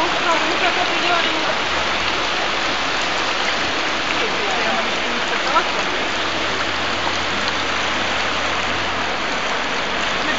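Heavy rain pours down during a flood in Poustevna, a dense, continuous roar of water hitting surfaces that stays loud and unbroken throughout, with no voices.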